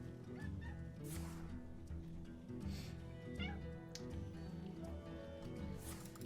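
A house cat meows close by indoors, its calls rising above a steady bed of layered game music and sound effects from a Hearthstone match.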